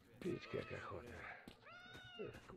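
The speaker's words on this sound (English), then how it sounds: "Is that a fucking cat?" A cat in S.T.A.L.K.E.R. Shadow of Chernobyl meows several times, plaintive and rising, the cries tangled with other game sounds at a fairly low overall level.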